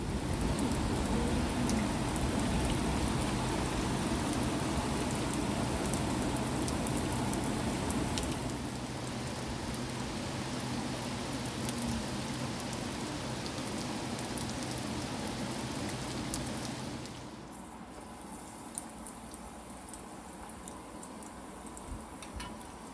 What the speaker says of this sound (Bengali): বাইরে বৃষ্টির এই ঝমঝমে আওয়াজ